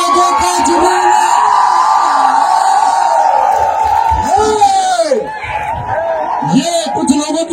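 A large crowd roars and whoops with loud, continuous cheering at a rally, sustained shouts and yells rising over one another throughout.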